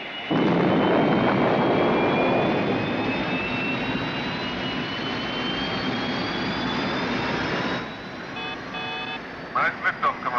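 A spacecraft lifts off with a loud, sustained engine roar and a rising whine that fades into quieter hum, followed by a few short electronic beeps.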